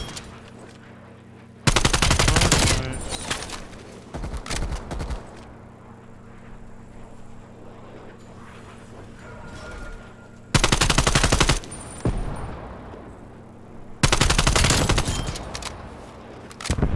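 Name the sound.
machine gun fire in a video game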